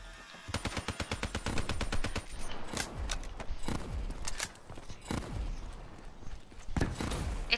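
Rapid automatic gunfire from a video game weapon, fired in dense, loud bursts with brief gaps between volleys, and no talking.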